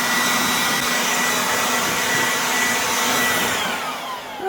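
An Aoetree 20V cordless jobsite blower runs close by with a loud, steady, airy whine and rushing air, holding constant before dipping slightly and shifting pitch near the end.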